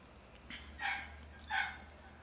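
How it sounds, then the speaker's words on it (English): A dog barks twice in the distance, two short echoing barks about three-quarters of a second apart, faint against a low background hum. "Just barking like a bitch."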